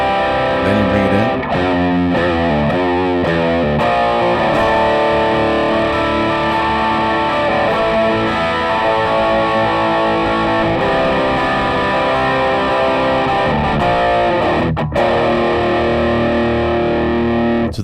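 Loud electric guitar played through a distortion pedal, sustained chords ringing with a thick, fuzzy tone and a few sharper strums.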